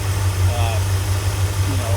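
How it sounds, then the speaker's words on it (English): A 1978 Chevy van's engine idles with a smooth, steady low hum and little mechanical clatter. The sound is close and even throughout, with a faint voice in the background. "there's very little mechanical noise coming out of this motor"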